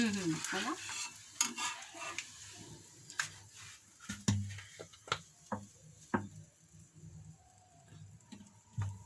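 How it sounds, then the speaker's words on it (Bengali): Dal puri frying in hot oil in a home kitchen, a soft continuous sizzle punctuated by sharp scrapes and clinks of a spatula stirring, close and fairly quiet, with no talk. "একটু লাল লাল করে ভাজছি আমাদের ডাল পুরি"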